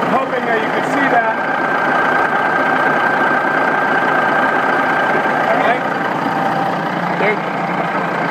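A remanufactured Cat diesel engine idles steadily in a Western Star truck, a loud, even, low rumble held throughout with a faint whine on top.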